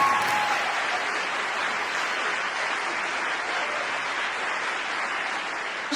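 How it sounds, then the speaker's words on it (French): A studio audience at a French TV game show gives a contestant sustained applause, a dense, even roar of clapping that stays loud and unbroken for several seconds. "Applaudissements pour Romain, s'il vous plaît."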